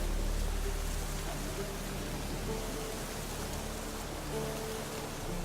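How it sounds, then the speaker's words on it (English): Steady rain in The Witcher 3 game world, a constant broadband hiss of falling drops that holds at an even level throughout, with faint game ambience beneath. "Looks like rain."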